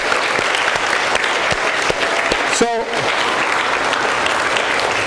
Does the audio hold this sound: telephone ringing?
no